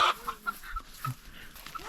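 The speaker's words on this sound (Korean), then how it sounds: "닭을 왜 잡아와" Chickens on a farm cluck in short, soft bursts nearby, a few scattered calls over a quiet background.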